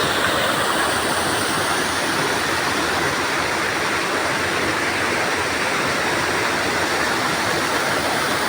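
Steady, continuous roar of water pouring over Minapan Dam in Tulunan, North Cotabato, loud and unbroken throughout with no voices.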